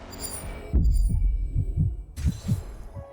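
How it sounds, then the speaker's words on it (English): Heartbeat sound effect in the video game Honkai Star Rail: a slow, steady run of deep low thumps, about eight beats under a faint hum, with a brief musical bed at the start. "Why the heartbeat sound?"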